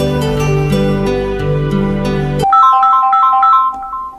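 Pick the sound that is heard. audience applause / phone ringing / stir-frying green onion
phone ringing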